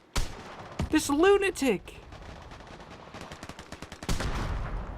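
Shotgun gunfire in a video game, sharp loud blasts, one at the start and another near the end, with rapid crackling shots between them, while a player shouts excitedly over the gunfire.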